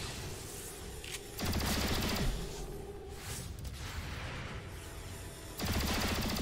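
Overwatch gunfire in the tactical game XCOM Chimera Squad: several sustained bursts of rapid shots, loud and close, with a fresh volley opening early and another near the end, over a continuous background of battle noise.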